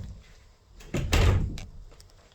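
A heavy metal door on an abandoned train in a railway yard swings back on its own and lands with a loud, resonant thud and rattle, followed by a few fainter clanks as it settles.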